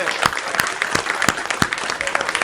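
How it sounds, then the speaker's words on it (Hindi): A live audience at a Hindi poetry recital breaks into loud, sustained clapping, dense and continuous with sharp individual claps standing out. "क्या मैं तालियों से जवाब चाहता हूँ।"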